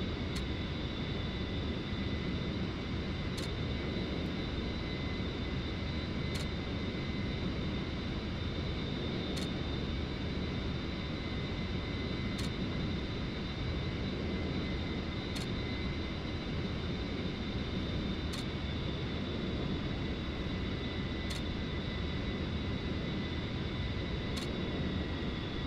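Steady, loud engine roar of an A-10C jet in flight, a broad continuous rumble with a faint whine, heard from inside the aircraft, with sharp clicks at regular intervals.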